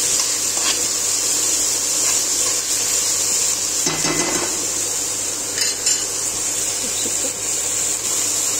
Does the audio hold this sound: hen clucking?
no